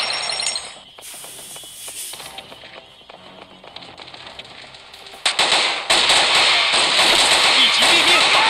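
Bursts of T91 rifle gunfire crack out in the shooting game Thunder Assault, loud and close, turning into a dense, sustained rattle near the end, with an announcer voice calling out over it.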